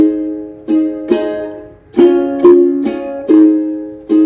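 Acoustic guitar strummed through three chords of a song, about eight crisp strokes in a steady rhythm with notes ringing between them, close and clear with no voice.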